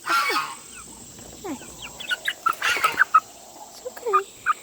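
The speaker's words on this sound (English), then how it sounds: "This is one of our Rhode Island Reds." A Rhode Island Red hen on a farm gives a run of short, close clucks and soft vocal calls at an uneven rhythm, with a bit of rustling early on.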